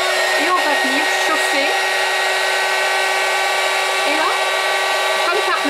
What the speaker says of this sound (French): mon pistolet chauffant a quelques années et c'est vrai qu'il chauffe un peu moins